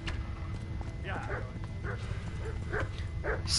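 A dog in the Kingdom Come: Deliverance video game barks in a few short, fairly faint yaps behind a low background hum and quiet talk.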